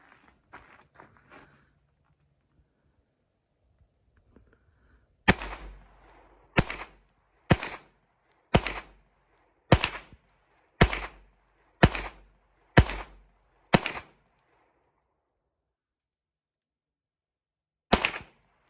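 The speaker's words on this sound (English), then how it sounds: "This old pistol is shooting very well. 10 more rounds of Federal." An old Hi Standard Dura-Matic .22 pistol fires Federal rounds at 25 yards, ten sharp evenly spaced shots in a steady rhythm, then a lone shot after a pause, loud and close, with faint rustling before.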